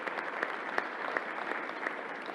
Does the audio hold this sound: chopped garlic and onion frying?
no